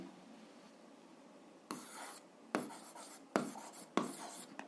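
A pen writes an algebra solution by hand on paper, giving four close scratchy strokes in separate bursts, each starting sharply and fading, over quiet room tone.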